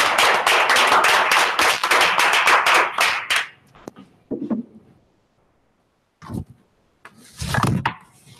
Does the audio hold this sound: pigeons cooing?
no